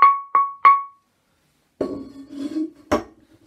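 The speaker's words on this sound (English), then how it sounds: "And I've pulled out a big pan, which makes a low noise." Three quick high metallic clangs, then a lower, duller strike on a big kitchen pan that rings with a deep tone before fading.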